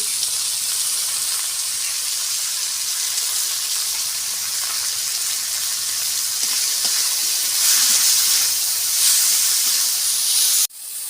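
Fresh flowers frying in hot oil in a pan, a loud, continuous hissing sizzle that swells slightly toward the end before cutting off abruptly.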